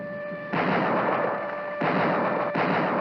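Cartoon gunfire and artillery from an animated adventure series, a loud sustained barrage of booming blasts that swells in bursts, with a high steady tone running underneath and no voices.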